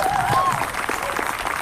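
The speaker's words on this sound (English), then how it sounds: "yes, we should clap for that" Brief burst of crowd clapping at an outdoor abortion-rights rally, lasting under two seconds with a voice speaking over the applause.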